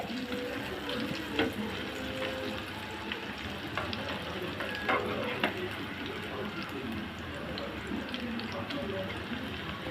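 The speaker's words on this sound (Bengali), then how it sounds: "কড়াই ভর্তি করে দিয়েছি আলুগুলো। এখন আমি ভালো করে ভেজে নিব।" A steady, dense crackle of potatoes deep frying in hot oil in a pan, loud and continuous, with a few sharp clicks from a utensil.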